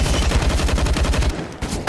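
Rapid automatic gunfire from a Counter-Strike: Global Offensive match on the Mirage map at a professional tournament, a loud steady burst of repeated shots that cuts off near the end, followed by a brief lull and a final crack.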